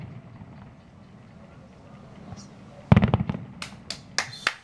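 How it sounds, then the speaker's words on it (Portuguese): New Year fireworks over Lisbon crack and pop in a quick cluster of sharp bursts at moderate distance, following a quieter stretch with a murmuring crowd. "são os últimos fogos de despedida."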